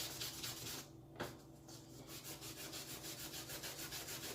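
A small piece of 1200-grit sandpaper rubbed by hand over a clear plastic RC body window makes steady, rhythmic back-and-forth scratching strokes, close up and fairly quiet, with a brief pause near the start.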